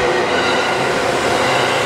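A train rumbles past steadily in Japan, a dense continuous roar of wheels and rail noise, close and loud throughout with no voices.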